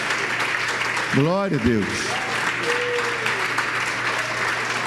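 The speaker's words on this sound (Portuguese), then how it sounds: "Dê um aplauso ao Senhor" Church congregation clapping steadily throughout, a dense, even wash of applause while someone speaks briefly over it near the start.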